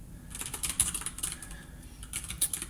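Fast bursts of clicky keystrokes on a computer keyboard while entering a snippet in Emacs for Bash, close and fairly loud with short pauses between runs of typing and no talk.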